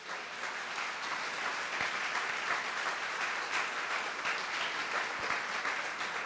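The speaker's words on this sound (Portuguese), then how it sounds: "Você pode dar uma salva de palmas ao Senhor?" Worshippers in a church give a round of applause to the Lord, a steady, fairly quiet, even clapping that fills the whole stretch with no talking.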